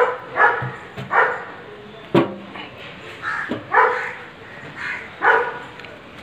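A dog barks several times at irregular intervals, each bark a short burst of moderate loudness, with faint voices and background noise in between.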